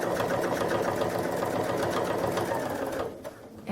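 A Babylock Crescendo sewing machine runs steadily for free motion stippling on a quilt, its needle chattering in a fast, even mechanical rhythm up close before it slows and stops near the end.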